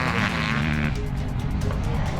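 A Yamaha YZ500 two-stroke motocross bike racing wheel to wheel against 450s at a national championship, its engine a loud, continuous raspy roar with other bikes blending in close by.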